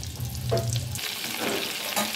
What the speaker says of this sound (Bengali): এখন আমি এটাকে হালকা একটু লাল করে ভেজে নেব।